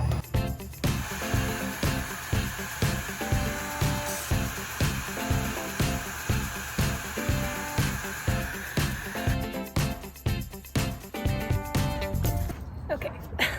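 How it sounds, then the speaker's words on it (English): A hair dryer blows steadily on a lamp during cleaning and restoration, a loud continuous whooshing hum with rhythmic pulsing scrubbing strokes throughout. "now I'm gonna go ahead and try the blow dryer and see if that helps with the scrub brush"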